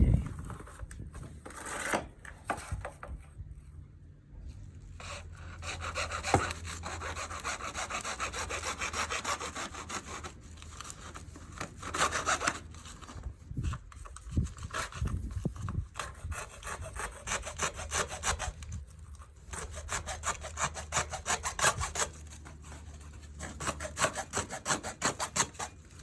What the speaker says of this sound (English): we're going to cut it off with a hacksaw